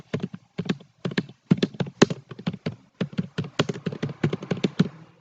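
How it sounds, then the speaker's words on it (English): Typing on a computer keyboard with a slightly faulty key: quick bursts of close, clicky keystrokes in irregular clusters with short pauses between words, alone without speech. "Let me type my school name."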